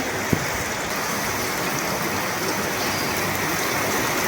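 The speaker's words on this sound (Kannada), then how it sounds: "ಎಷ್ಟು ಜೋರು ಮಳೆ ಬರಕಂದೈತಿ" Heavy rain pours down in a dense, unbroken hiss, with one short knock near the start.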